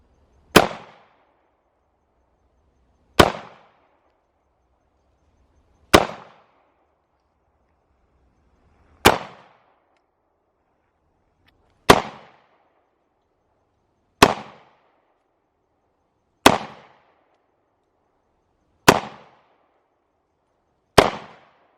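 CZ 75 P-01 pistol fired at a shooting range: eight sharp single shots spaced about three seconds apart, each a loud crack with a short decaying ring and nothing in between.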